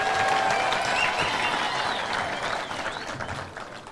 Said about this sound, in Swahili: pigieni Kimani Ichung'wah makofi.